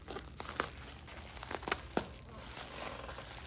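Plastic fishing lure packaging for Megabass Orochi X10 rods is cut and handled with scissors, producing a run of close crinkling and sharp snipping crackles in irregular bursts, then softer rustling.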